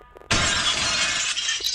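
Glass shatters in the horror video game Granny 5, a sudden loud crash after a quiet moment, followed by a sustained tinkling rush of falling shards.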